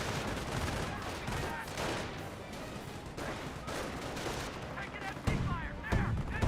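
Dense, continuous gunfire and explosions from the Company of Heroes battle game as a rifle squad comes under fire, a busy layered rattle of shots and blasts with a commentator's voice over it.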